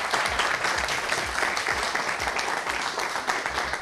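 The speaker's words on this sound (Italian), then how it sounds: "Faccio un applauso per tutti i partecipanti" Steady, dense applause fills the space for the participants of an Italian pizza-school show episode, with many hands clapping continuously and evenly from start to finish and no break in the sound.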